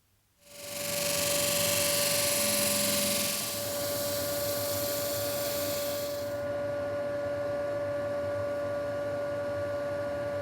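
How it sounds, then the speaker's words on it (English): A disc sander squaring up the edges of a cast clear epoxy resin block gives a loud, steady broadband whir that starts abruptly, eases slightly after a few seconds and keeps running with a constant tonal hum underneath. "Now I'm just going to go over to the disc sander."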